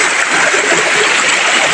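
Creek water rushes steadily and loudly, a dense, continuous splash and gurgle heard close by with no voices.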